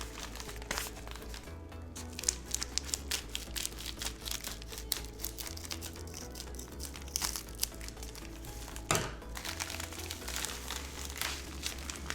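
Crinkly plastic and card packaging rustles and crunches steadily under safety scissors while vintage graded Pokemon and Yu-Gi-Oh cards are unboxed, with a few sharper snips and tears among the continuous close handling noise.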